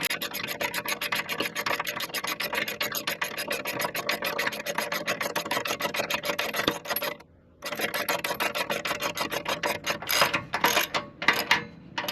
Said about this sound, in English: Take our 25mm ratchet, and we're going to start screwing the bolt into the receiver.